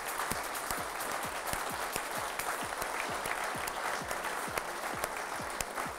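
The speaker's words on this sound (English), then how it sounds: "Let's have one final round of applause for everyone who's won tonight." An audience at an awards evening gives award winners one last round of applause: a sustained, even burst of many hands with individual sharp claps standing out, and no voices over it.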